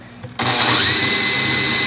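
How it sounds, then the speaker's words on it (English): A power drill bores a hole into a wood base that sits raised on wood pieces, its high motor whine starting abruptly and holding loud and steady to the end. "I'm ready to drill the hole into my pieces"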